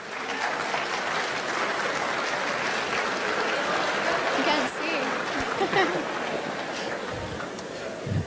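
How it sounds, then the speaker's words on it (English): Audience at a Pecha Kucha Night event in Edmonton giving a long round of applause, a steady crowd clapping that swells and fades slightly, with faint voices underneath. "give them a huge round of applause"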